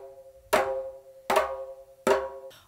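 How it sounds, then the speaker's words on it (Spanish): A hand drum struck near the rim with three fingers rings with a higher-pitched open tone, three evenly spaced resonant strokes that decay slowly, close and clear with nothing else heard. "voy al borde del tambor y debe sonar más agudo"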